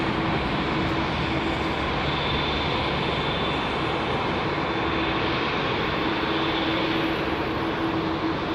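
A jet aircraft roars loud and close as it departs runway 27R at London Heathrow Airport, a steady, dense engine rumble that holds for the whole stretch without pause.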